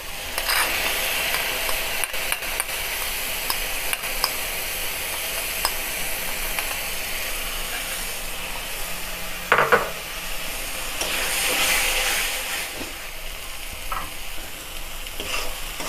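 White mustard paste and spices fry in a pan with a continuous close sizzle, broken by occasional scraping stirs and clinks of a utensil against the pan.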